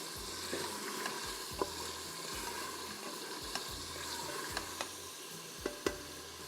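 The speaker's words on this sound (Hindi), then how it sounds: "इस तरह से आप इसको भून लीजिए अच्छी तरह कि तेल भी ऊपर आ जाए और टमाटर गल जाए।" Tomatoes fry in oil in a pan with a continuous low sizzle and crackle, with occasional small pops and spoon clicks against the pan, faint and steady throughout with no voices.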